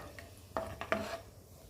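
Cashew nuts frying in hot oil in a pan, with a few light stirs and scrapes clattering against the metal over a soft background, no talk.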